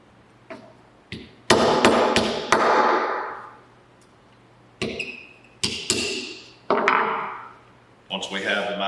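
Sharp metallic taps and ringing strikes install a Dawson Ice magazine well on a Warwick Prodigy pistol grip, coming singly and in quick clusters close to the mic, each decaying with a short metallic resonance over a low hum.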